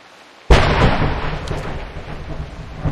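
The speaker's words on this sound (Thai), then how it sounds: "ฟ้าร้อง" Thunder in the mobile game PUBG Mobile cracks loudly after a brief quiet moment, then rolls and rumbles on for several seconds, broad and booming, gradually easing without fading out.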